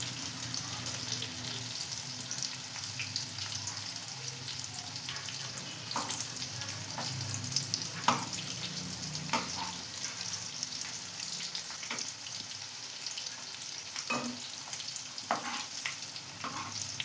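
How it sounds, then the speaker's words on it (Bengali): Bhetki fish fingers fry in hot oil over low heat, a steady sizzle and crackle running throughout with occasional sharper pops and spatters standing out, no voices. "ফিশ ফিঙ্গারগুলো ভাজা হয়ে গেছে, এবার তুলে নেব প্লেটে।"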